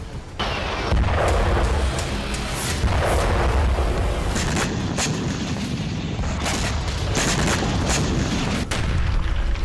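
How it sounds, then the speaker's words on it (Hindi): Heavy, continuous booming and rumbling of explosions from a drone attack, with repeated sharper blasts rising out of a dense, loud roar. "काफी दूर तक धमाके की आवाज सुनाई दी।"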